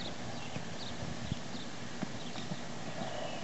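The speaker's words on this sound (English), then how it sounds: "Loves her horses." Horse hooves clip-clop at a steady walk on a farm, the sharp, moderately distant hoofbeats repeating in a loose rhythm over outdoor background noise.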